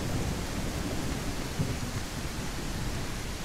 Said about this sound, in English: we're standing out in the rain doing this